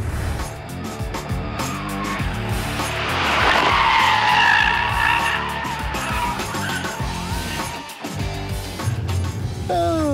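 A Tesla Model 3 driven hard on a race track in track mode gives loud, sustained tire squeal and skidding as it corners, with road roar swelling and fading and a short quieter break near the end.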